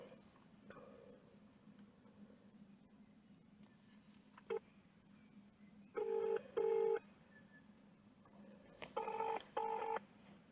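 Telephone keypad dialing tones, a series of short beeps in irregular bursts, some single and some in quick pairs, over a quiet room hum.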